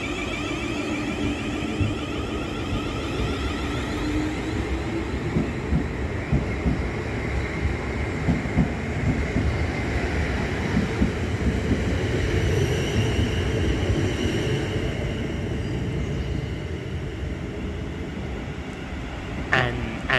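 South Western Railway class 444 unit 444042 at Havant station, its engine and wheel rumble steady and continuous throughout, with a faint brake or horn tone near the end and people talking underneath.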